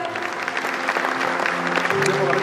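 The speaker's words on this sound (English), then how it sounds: "Please give a big round of applause for her." Audience applause at a school prize distribution ceremony, a steady wash of clapping from a crowd with a voice speaking over it.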